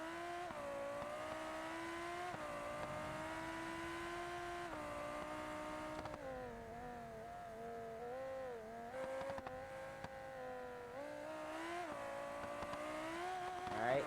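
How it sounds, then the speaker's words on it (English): A race car laps the West Coast race course in the BeamNG driving game. The engine revs rise and fall continuously as it accelerates, shifts and brakes through corners, with faint tire noise. "there's your lap of the West Coast race course. In the race car."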